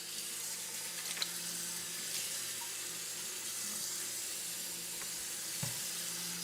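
A tap runs steadily while a tray is washed, giving a continuous close hiss of water with a few faint knocks and clunks and no talk.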